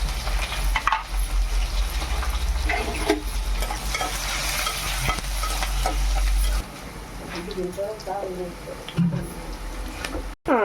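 Cumin, green chillies and onion sizzling and frying in hot oil, stirred with a steady clatter in the pan, a continuous close crackle that thins out toward the end.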